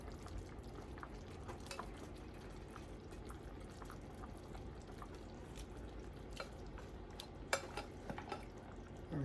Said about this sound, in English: my soup is boiling